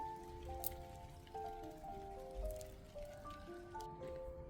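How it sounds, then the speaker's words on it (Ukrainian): Light rain begins again over a rose garden, soft patters and drips on leaves at low level, accompanied by faint, thin birdsong-like tones and no talk. "У нас знову починається дощ."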